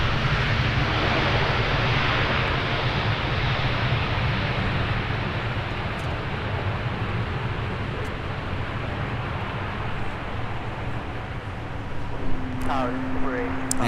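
An airliner arriving at Minneapolis–Saint Paul airport, a steady distant jet rumble with a low droning hum, fairly quiet and unchanging, with a brief tonal whine and clicks near the end.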